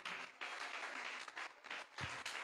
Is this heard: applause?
yes